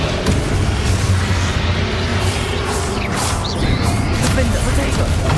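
Fire-blast spellcasting in the Hogwarts Legacy video game, with dense crashing and whooshing combat effects running loud and continuous, one bright burst near the middle, and voices heard beneath the action.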